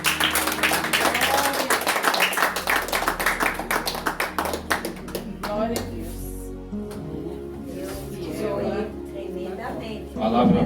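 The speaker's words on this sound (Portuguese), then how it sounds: "E as palmas do Senhor" A church congregation in Vila Antonieta, São Paulo claps and applauds loudly during a service, the clapping gradually thinning and fading while voices speak and murmur underneath.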